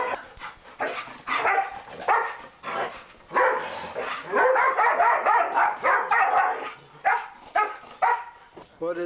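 Dogs let out into deep snow at Christmas bark and yip excitedly in repeated bursts, close and fairly loud, with a person talking among the barks.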